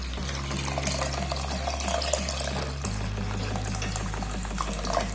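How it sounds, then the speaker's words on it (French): Water pours steadily from a tap into a cooking pot while fennel soup is made, a continuous close splashing that shifts in pitch partway through as the pot fills, with no talking. "j'ajoute 1 litre d'eau"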